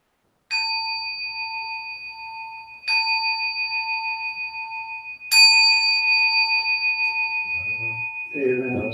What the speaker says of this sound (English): So 3 bells. that works.